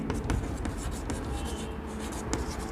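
Writing on a board during a Class-10 physics lesson: steady scratching strokes with short tapping accents, fairly quiet and continuous, with no talk over it.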